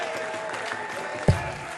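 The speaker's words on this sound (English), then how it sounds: "Woken the crowd up." A small crowd claps at the Lakeside WDF World Championship darts match after a 180. The applause is faint and scattered, under commentary, with a single sharp thump near the end.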